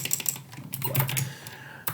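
Quick bursts of typing on a computer keyboard while writing code, a few clusters of clicky keystrokes close by with short pauses between them, quiet and without talk.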